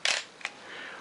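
A Pentax K film camera fires its shutter at 1/500 second, giving a sharp mechanical clack followed by a softer second click, close and isolated, with faint low mechanism whir trailing after.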